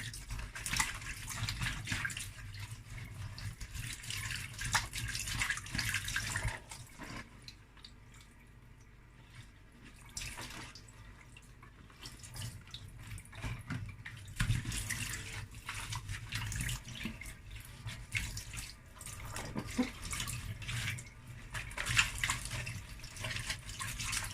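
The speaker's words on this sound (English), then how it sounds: "So that is how I normally wash my moimoi leaves." Tap water runs and splashes steadily as moimoi leaves are washed in a kitchen sink, a close, continuous rushing broken by a brief quieter lull midway, with no talking.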